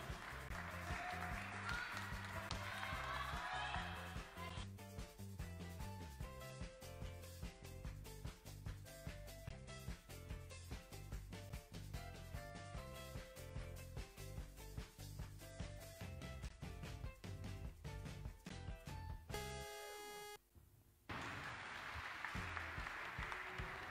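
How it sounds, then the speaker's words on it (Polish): Audience applause welcoming a female weightlifter onto the competition platform at a world university weightlifting championship: sustained, dense clapping over music, with a brief dip near the end before the clapping resumes. "I witamy zawodniczkę brawami na pomoście."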